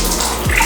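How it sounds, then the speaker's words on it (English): Water tap running in a small dive resort room in the Philippines with low pressure, a brief close trickle and splash into a basin. "struggle to get water pressure is real."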